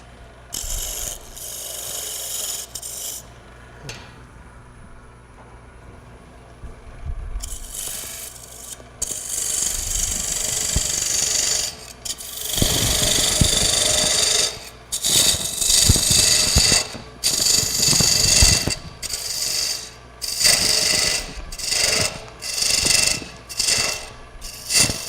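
Wood turned on a lathe during a live hollowing demonstration: rough scraping and rasping bursts as the tool cuts the inside of the piece, starting and stopping repeatedly over a mechanical hum.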